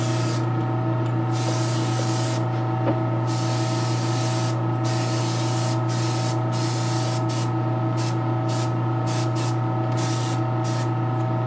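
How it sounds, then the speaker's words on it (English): Repeated bursts of spray from an aging spray bottle laying on a heavy, thick varnish, broad hissing pulses with short gaps over a steady low mechanical hum, close and fairly loud. "Putting a heavy, thicker varnish on it because that's going to be handled a lot."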